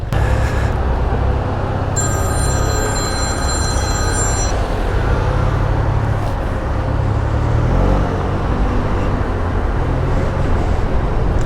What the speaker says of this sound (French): c'est vraiment puissant comme scooter